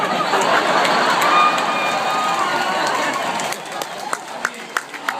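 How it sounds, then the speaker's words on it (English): Dense stadium crowd applause and cheering roars steadily for several seconds, then thins to scattered individual claps near the end. "it feels really good to get an applause in this stadium"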